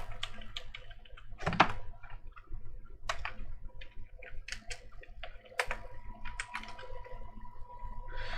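Someone types on a computer keyboard while writing Angular form code, producing close, crisp clicks in irregular bursts with short pauses and a few heavier keystrokes.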